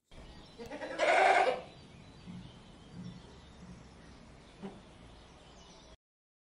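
A goat bleats once, a loud wavering call near the start, followed by faint rustling and a soft knock in an otherwise quiet outdoor scene.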